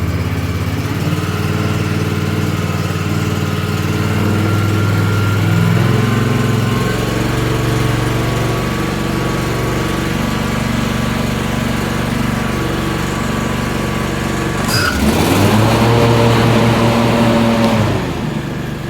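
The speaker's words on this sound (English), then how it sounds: "Idle her up a little bit, and then I'll gauge the deck." A Husqvarna Z248F zero-turn mower engine idles steadily and loudly close by, its hum holding even for most of the stretch before briefly shifting pitch near the end, with no voices.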